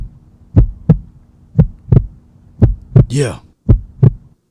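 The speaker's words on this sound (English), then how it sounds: "That beat, that heartbeat, need to be beating faster than that" A heartbeat sound effect, loud and close, pulsing in steady lub-dub pairs about four times over a low hum, with a brief swooping electronic tone and a one-word spoken interjection partway through.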